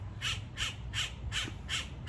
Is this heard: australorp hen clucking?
no